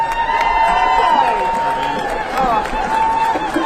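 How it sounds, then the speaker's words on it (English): Crowd of striking teachers at a New Zealand rally applauding and cheering the Minister of Education outdoors, a dense sustained clatter of clapping with scattered shouts and whistles over several seconds. "Give her a round of applause."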